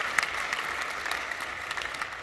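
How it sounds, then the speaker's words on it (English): Conference attendees applaud the panelists at a civil society plenary in Bonn, a soft, even patter of many hands clapping heard from a little distance, steady for the whole stretch with no talking. "Please give a round of applause for your phenomenal panelists."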